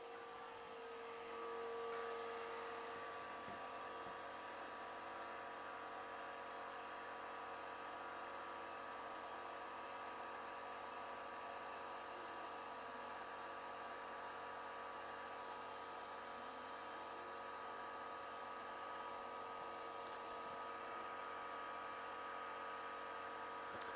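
Atezr P20 laser cutter running at 100% power and 9 mm per second through 4.5 mm luan plywood, a steady whirring fan and air-assist drone with faint tonal hum, continuous and close without talk.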